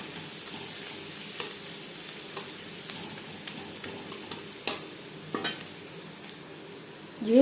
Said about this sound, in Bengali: পেঁয়াজের সাথে মশলা আরও 2-3 মিনিট নাড়াচাড়া করে নেওয়ার পর